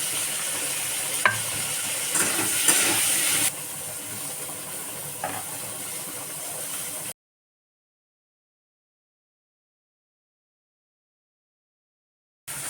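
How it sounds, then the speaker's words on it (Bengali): Fried broad beans and cauliflower are stirred in a hot pan with a constant sizzle and soft scraping for about seven seconds, then silence. "সুন্দর করে নাড়িয়ে চাড়িয়ে নেব। ফুলকপি আর সিম"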